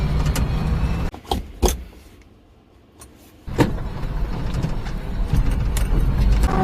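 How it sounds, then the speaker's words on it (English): A mini truck driving through snow with its engine running loud and close, a steady rumble that briefly drops away mid-clip before surging back with knocks and rattles. "Now this is a very loud car"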